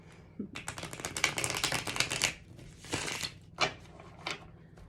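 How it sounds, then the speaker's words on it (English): Tarot cards being shuffled by hand: a dense run of quick papery riffling for about two seconds, then a few separate shorter shuffles, close and fairly quiet. "All right, let's shuffle now."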